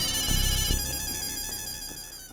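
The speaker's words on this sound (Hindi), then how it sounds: "किसका फोन है?" A phone ringtone plays loud and close, a steady electronic melody that fades slightly over a couple of seconds with no voices.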